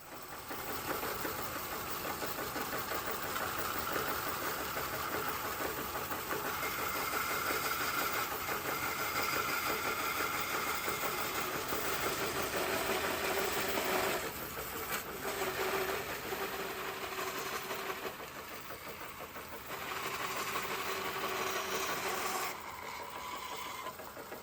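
A bandsaw runs with a steady, close mechanical whir while cutting a wooden grabrail test piece, its tone shifting slightly as the blade works through the wood.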